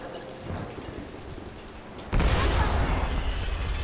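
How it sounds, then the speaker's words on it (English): Thunder during a lightning storm in Tomb Raider (2013): a quiet rainy bed suddenly broken by a loud, close crack that rolls on as a heavy rumble. "Is that lightning?"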